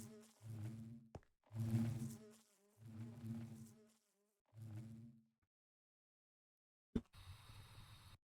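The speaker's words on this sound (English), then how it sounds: "Oh crap, I lost a bee." A bee in the Minecraft modpack All The Mods 9 buzzes in four loud droning bursts of about a second each, separated by short gaps, then falls silent before a different noisy sound cuts in at the end.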